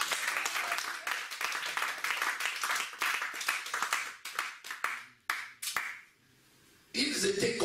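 A church congregation claps loudly and continuously in acclamation of the Lord, a dense roar of many hands that thins and breaks off near the end before a short burst of cheering and clapping returns.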